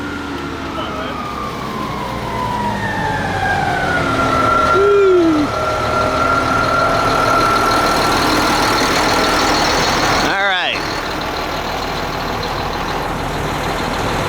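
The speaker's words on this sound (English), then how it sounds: "They got two trucks going in, and that's your concrete gonna be pumped out to the job site." Concrete trucks and a pump truck idle at a construction job site, a steady loud diesel rumble running throughout, with a passing siren-like tone and brief talk over it.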